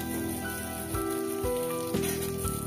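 Potatoes sizzling steadily in hot oil with black mustard seeds for a Bengali potato chutney, a continuous crackling fry close by with faint background hum and no talk.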